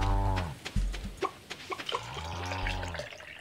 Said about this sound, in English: First cow.